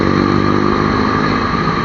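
Motorcycles roll through traffic on Commonwealth Avenue, their engines making a loud, steady, close buzzing drone with a throbbing rhythm and no pauses.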